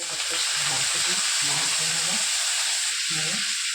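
Fenugreek greens hitting hot oil in a pan for methi matar, giving a steady close sizzle and crackle of frying for several seconds, with soft stirring scrapes underneath and no talk.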